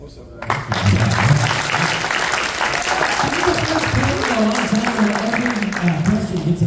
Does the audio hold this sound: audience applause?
yes